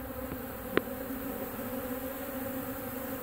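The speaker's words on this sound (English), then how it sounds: "These bees are coming out and learning how to be foragers. And let you hear this roar." A dense, steady roar of many honeybees on orientation flights outside a mobile home in Lakeland, Florida, a continuous buzzing drone with one brief sharp tick partway through.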